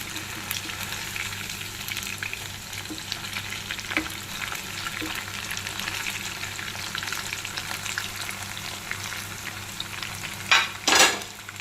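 Spicy chicken fries in hot oil with a steady, dense sizzle that runs throughout, broken by occasional stirring clatter and a couple of louder bursts of spattering near the end; no one speaks.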